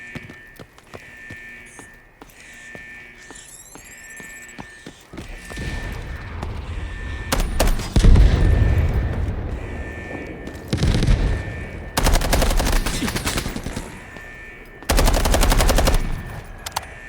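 Rapid bursts of automatic gunfire in the video game Delta Force come in loud volleys, with quieter stretches of game noise in between.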